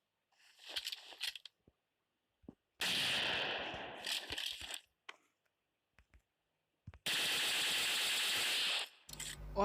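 M4 rifle fire in a mobile battle-royale shooter game: two sustained loud automatic bursts, each lasting about two seconds, separated by sparse clicks and short sharp pops against silence.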